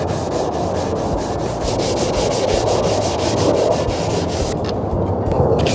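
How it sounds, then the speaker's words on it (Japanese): Hand sanding on the wood of a folding camping table makes a loud, continuous rasping scrape with rapid back-and-forth strokes, close up and alone. "まずはヤスリ掛けから行ってみたいなと思います。"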